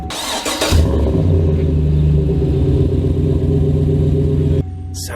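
A GMC Sierra pickup fitted with a Gibson exhaust cranks briefly, then fires and settles into a loud, steady, deep idle rumble close by, which cuts off abruptly near the end.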